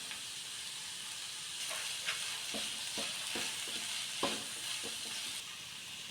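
Vegetables stir-fried for veg noodles as pepper powder goes in, giving a constant soft sizzle and hiss with a scattering of light spatula taps and scrapes against the pan.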